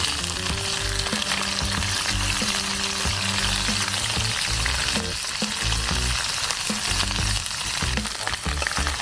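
Dried fish (tuyo) frying in a pan for a simple Filipino breakfast, a loud, steady crackling sizzle running continuously throughout with no talk.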